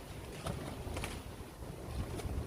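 Gusty wind buffets a carp fishing bivvy in late summer, a steady rough rush with a few stronger gusts over about two and a half seconds, with no talking.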